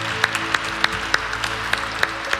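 A church congregation applauding during Mass, a scattered round of claps at a steady, moderate pace over a low room murmur.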